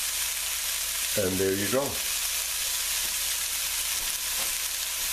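Chopped celery sweats in a hot pan with a steady, close sizzle throughout, briefly interrupted by a short spoken remark, then frying on alone.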